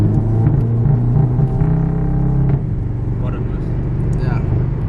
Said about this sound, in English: What we're gonna do now is to test drive the car